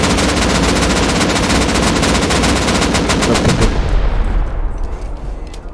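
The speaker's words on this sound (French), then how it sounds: "c'est la tourelle ici qui me vise" Automated turret in the survival game Rust firing a sustained rapid burst of gunshots, loud and close, lasting several seconds before cutting off and trailing into a fading echo.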